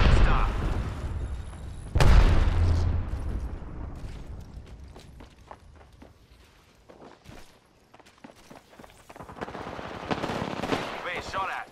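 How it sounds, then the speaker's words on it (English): Gunfire during a firefight in the Apex Legends video game, with bursts of automatic shots, a loud hit near the two-second mark and footsteps, under a busy layer of game effects that thins out midway and builds up again toward the end. "Being shot at."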